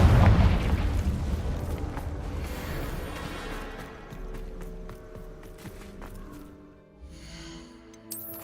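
A heavy Confringo spell explosion in Hogwarts Legacy bursts loud and close at first, then rumbles and fades away over several seconds.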